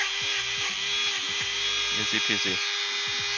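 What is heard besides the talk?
power sander sanding foam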